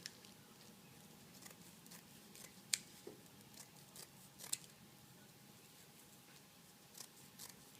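Scissors snip freehand through burlap to cut leaf shapes for a deco mesh pumpkin craft. A few faint, sparse cuts and rustles sound close in a quiet room.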